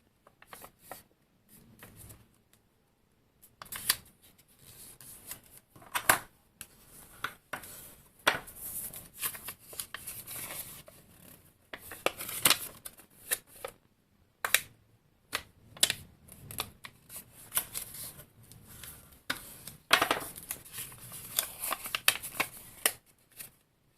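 Paper being creased into folds for a handmade Christmas village, heard as irregular crisp rustles, scrapes and taps in close bursts separated by short quiet gaps, with no speech.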